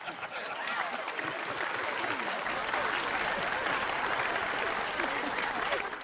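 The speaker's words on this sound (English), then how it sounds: "It plays this, actually, which is a bunch of applause and then the scatter." Applause sound effect from the Ruined King game audio: a dense, steady wash of many hands clapping, like a small crowd, sustained for several seconds with a faint voice or chuckle mixed in.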